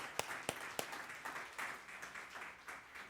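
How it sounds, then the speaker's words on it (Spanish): A church congregation claps in praise, a few sharp claps standing out early before the applause thins into a soft, scattered patter at a moderate distance. "Démosle ese aplauso al Señor."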